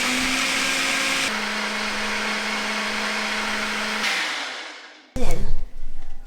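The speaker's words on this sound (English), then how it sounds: "I'm going to blend my egg whites." Kitchen blender whirring steadily as it whips egg whites for a cake, a loud continuous motor drone that shifts pitch once, then cuts off, followed by brief clattering handling noises.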